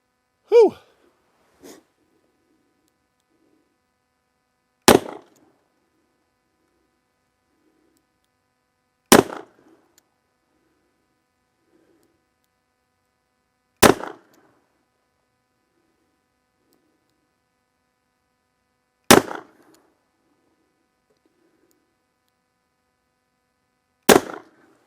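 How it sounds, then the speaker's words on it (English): A Kimber K6s 4-inch revolver fires reloads over a chronograph: five sharp, loud single shots spaced about four to five seconds apart, with near silence between and a brief faint sound at the start. "we're moving on to the old Kimber K6s 4-inch. We're going to put my reloads across the chronograph and see what kind of accuracy we turn in"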